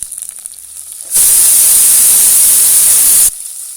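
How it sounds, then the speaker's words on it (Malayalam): Tomato and green chillies are sautéed in a pan, producing a loud, steady hiss that switches on abruptly, lasts about two seconds, then cuts off, with quiet room sound before and after and no talking. "രണ്ട് പച്ചമുളക് ഇത്രയും ചേർത്ത് നന്നായിട്ടൊന്ന് വഴറ്റിയെടുക്കാം."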